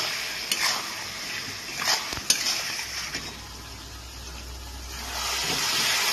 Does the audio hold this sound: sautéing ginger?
yes